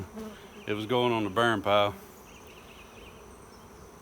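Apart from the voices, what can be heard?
bees buzzing around an old desk swarm trap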